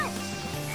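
A frog in the Sonic Heroes video game gives a single short croak, moderately faint, over a low steady game hum.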